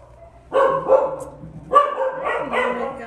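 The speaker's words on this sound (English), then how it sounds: "Some barking dogs going on" Several puppy-breeder dogs bark and yip nearby in overlapping bursts, a steady background hum underneath.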